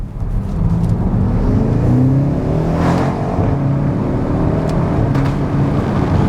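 A BMW X5 M xDrive Competition's V8 exhaust revs and drones loudly as the car accelerates, its deep rumble rising and falling, heard from inside the cabin.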